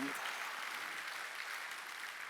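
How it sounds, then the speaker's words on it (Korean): A church congregation at a Sunday worship service breaks into dense, even applause, a continuous crowd of clapping hands that stays steady and fairly distant for a couple of seconds. "박수."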